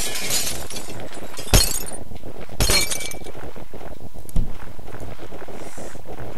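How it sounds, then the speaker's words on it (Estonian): Glass shattering in the video game Happy Wheels: two sharp breaking crashes a second apart, then a smaller clink, loud over a steady game background with no talk. "Miks ma seda klaasi lõhkud ja see poiss?"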